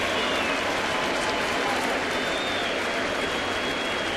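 A baseball stadium crowd at a Boston at New York game roars steadily and excitedly, a continuous wash of cheering and applause that holds loud throughout.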